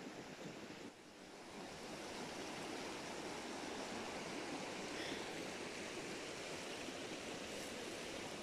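A river flows beside an overnight camping spot in Urrao, Antioquia: a steady, broad rushing of water, faint in level but continuous, with a brief dip near the start and no voices.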